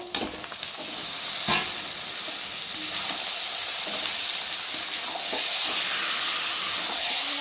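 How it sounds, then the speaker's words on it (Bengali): Marinated chicken sautéing in spiced oil for biryani, a steady close sizzle and hiss with occasional spatula scrapes and knocks against the pan, no talk. "আর এখন মেখে রাখা মাংসটাকে দিয়ে ভালো করে কষিয়ে নেব।"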